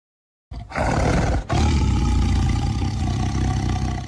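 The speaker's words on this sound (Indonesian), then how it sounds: "Suara itu berasal dari seorang pria yang suaranya itu mirip seperti erangan seekor harimau." After a moment of silence, a deep, loud, sustained roaring growl from a man erupts and rumbles on continuously, like a tiger's roar.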